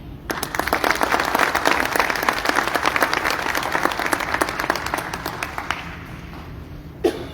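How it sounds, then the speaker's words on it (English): An audience applauds a speaker at a grant announcement in New Orleans, with brisk, full clapping from a sizable crowd that holds steady, then thins and fades, followed by a brief bump of a nearby sound. "Please give him a warm round of applause"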